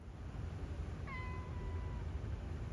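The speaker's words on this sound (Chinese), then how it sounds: "还能跟路上的猫咪打个招呼" A cat on a street in Okinawa lets out a single clear meow of about one second, mid-distance, over a steady background of low traffic and street hum.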